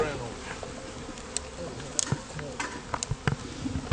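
Bees buzzing around a hive outdoors in spring: a steady, faint swarm hum fills the whole stretch, with individual bees passing close as short, louder buzzes and clicks.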